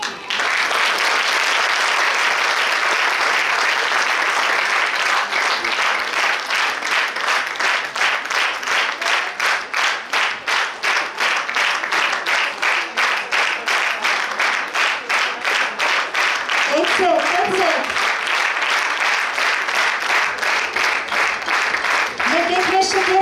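An audience at a fourth-grade school graduation ceremony claps loudly and steadily for over twenty seconds, the applause settling into a fast rhythmic beat, with a brief voice cutting in near the end.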